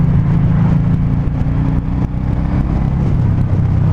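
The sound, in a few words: 2019 Suzuki M109R motorcycle engine accelerating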